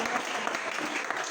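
A church congregation claps in dense, steady applause, a brief close burst of many hands with no pauses.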